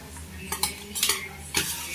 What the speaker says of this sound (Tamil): இஞ்சி பூண்டு வந்து நல்லா மிக்ஸ் ஆகிடணும், அந்த அளவுக்கு நம்ம கலக்கிக்கலாம்